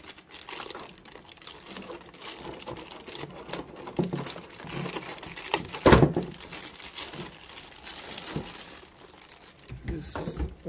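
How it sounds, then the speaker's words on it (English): Plastic packaging of a cooler being cut and pried open with a knife during an unboxing, giving continuous close crinkling, scraping and cracking with a sharper snap midway, fairly loud throughout. "Be careful when you open the plastic frame with the knife."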